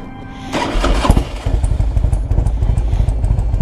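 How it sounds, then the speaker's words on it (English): A 2001 Harley Davidson Ultra Classic with an S&S motor and top end cranks briefly, catches with a loud bark and settles into a rhythmic, thumping idle, close and alone. "Listen to how good this S&S motor fires up."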